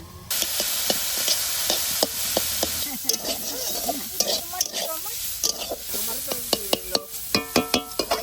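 Greens sizzle steadily in a hot pan while a spatula scrapes and stirs in sharp, irregular strokes, close and fairly loud, with no talking.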